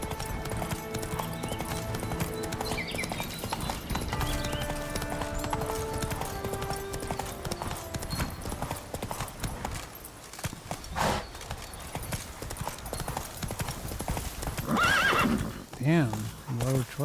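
Hoofbeats of Geralt's horse Roach galloping in The Witcher 3, a steady clip-clop rhythm running under a game music score, with a whinny near the end and someone talking briefly over it.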